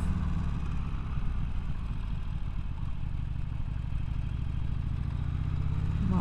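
Harley-Davidson Sportster Iron 1200, 2019 model, being ridden, a continuous low, rumbling engine pulse heard close and loud with wind buffeting, steady throughout without voices.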